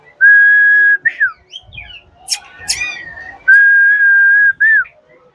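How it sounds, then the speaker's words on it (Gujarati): Pet parrots kept beside a Hanuman temple at a chowpatty in Surat whistle nearby: two long, steady, piercing whistles, each ending in a quick upward chirp, separated by a stretch of softer rustling and faint chatter. "પોપટ મૂકેલા છે, બોલે છે"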